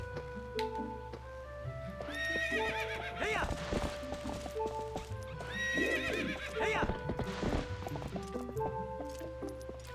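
Hooves clip-clop in a steady trot while a horse whinnies loudly twice in The Legend of Zelda: Twilight Princess, layered over a gentle melodic game soundtrack.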